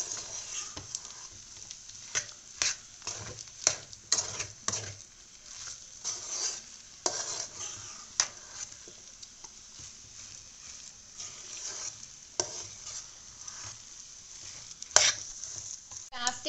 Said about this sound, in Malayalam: നമുക്കിത് നന്നായിട്ട് ഒന്നും കൂടെ ഒന്ന് ഇളക്കി യോജിപ്പിക്കാം